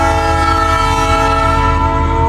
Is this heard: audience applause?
no